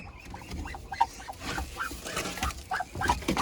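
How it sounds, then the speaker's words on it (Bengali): Chinese geese honk repeatedly at a farmyard feeding spot, several birds overlapping in a busy, uneven run of nasal calls, close and fairly loud, with no talk. "এই যে এখানেও চীনা হাঁস বসা আছে"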